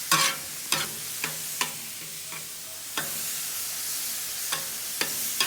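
Ground beef sizzles steadily in a pan while a utensil stirs and scrapes it, sharp strokes landing every second or so over the constant frying hiss.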